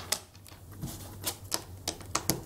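Neocube magnetic balls are pulled apart, giving a series of sharp, irregular clicks and light clacks up close, several in quick succession over a quiet background.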